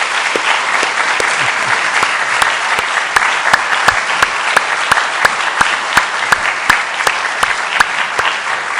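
Sustained applause from a church congregation fills the room as flower bouquets are handed to departing and incoming pastors at a leadership installation ceremony, with steady dense clapping and a few sharper individual claps standing out throughout.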